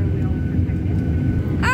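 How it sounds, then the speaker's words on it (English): A Delta Airlines Boeing 737 at takeoff, heard from inside the cabin as a loud, steady low roar of engines and airflow, with a brief rising whine at the very end. "I'm gonna record a takeoff of Delta Airlines."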